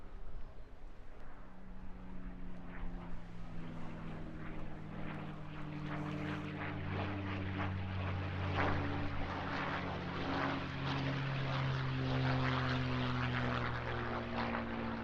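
A North American Aviation warbird built at Inglewood in 1944, fitted with a Packard V1650 engine, flies past at an airshow over Eastbourne, its steady propeller drone swelling gradually and holding loud throughout with a shifting engine pitch.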